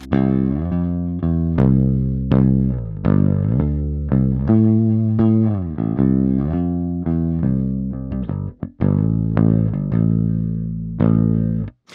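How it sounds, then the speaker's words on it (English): Electric guitar through a Master Effects Super Forty pedal with the gain turned up, loud and close, playing a run of distinct picked notes and chords, each ringing with a sharp attack and decaying sustain, alone with no talking. "as we start to turn the gain up, we're going to get louder, of course, but we're also going to start to introduce a little bit more distortion into the signal"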